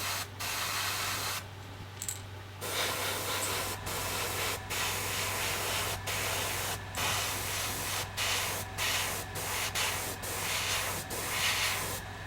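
An airbrush hisses steadily as it sprays paint onto a fishing lure's eye socket, a continuous close spray broken by a few brief pauses and sharp trigger breaks, under a low constant hum.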